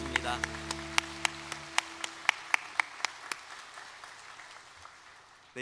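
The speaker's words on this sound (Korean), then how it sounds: "우리 서로를 향해 박수로 한 번 더 축복하겠습니다" Church congregation at a Sunday worship service claps in a steady, evenly spaced rhythm, sharp distinct claps that fade out after a few seconds as a held musical chord dies away.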